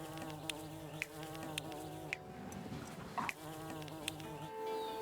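Dense buzzing of many bees in the video game Laysara forms a continuous, layered drone with faint clicking ticks scattered through it.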